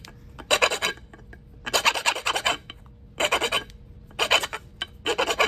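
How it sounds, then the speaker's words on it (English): Flint knapping while shaping a Clovis biface from a core: rhythmic bursts of gritty scraping and rasping stone-on-stone strokes, five close, fairly loud passes separated by brief pauses. "the sound in flint napping"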